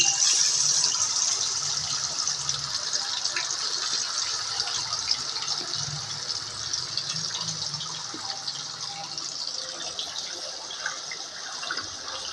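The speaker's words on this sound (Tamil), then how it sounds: "அரை மணி நேரம் ஊற வச்ச சிக்கன் பொரிச்சு எடுத்துக்கலாம்" Marinated chicken frying in hot oil for biryani gives off a steady, dense sizzling hiss that carries on without a break, close and fairly loud.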